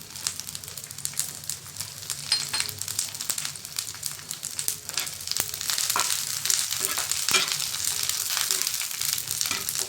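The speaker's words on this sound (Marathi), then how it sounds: "त्यामध्ये आता घालायचं आहे लसूण आणि आलं घालायचं." Garlic and ginger fry in plenty of hot oil in a pan for a traditional village-style curry, giving a steady close sizzle with crackles and spatters that grows louder in the second half, with no talk.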